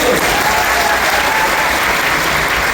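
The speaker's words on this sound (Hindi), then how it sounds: "ताली बजा सकते हो।" Loud, dense applause from the audience at a career opportunity meeting in Bilaspur, a continuous roar of many hands clapping close up for the whole stretch.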